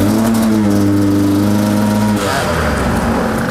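Two-stroke Husqvarna enduro motorcycle, 2022 model, idling loudly then revving up around two seconds in, with a steady buzzy engine note throughout and a rougher, higher rise after the throttle blip.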